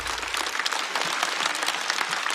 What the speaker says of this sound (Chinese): 再次掌声送给 Kid。